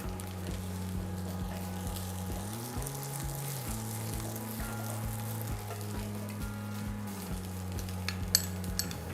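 Garlic and cooked white rice stir-fried in a pan for Thai fish fried rice, a steady close sizzle with a low droning hum beneath, no talking.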